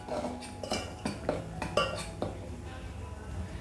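Utensils clink and scrape against a bowl while mixing rice flour with salt, in a quick series of light knocks, then the clatter settles into softer stirring.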